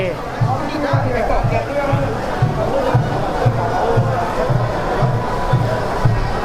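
A large stadium crowd roars and chants continuously with vuvuzelas, a steady rhythmic drum beat pulsing underneath, at the Thailand versus Vietnam SEA Games football final in Hanoi.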